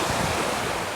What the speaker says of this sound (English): the waves are cranking